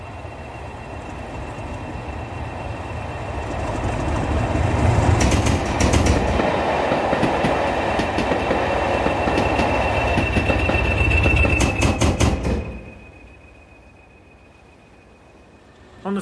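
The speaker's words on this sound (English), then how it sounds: "After reversing at Seaforth, 37428 leads the train back to Giles Mount." Locomotive 37428 leading a train back from Seaforth to Giles Mount, a loud rolling rumble with rhythmic clickety-clack of wheels over rail joints that builds, holds, then cuts off abruptly, leaving a faint hum.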